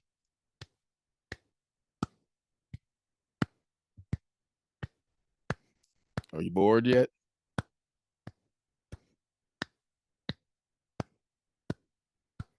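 Single monotonous claps repeat at a steady, evenly spaced beat, about eighteen in all, crisp and isolated against silence, with a short spoken question breaking in midway.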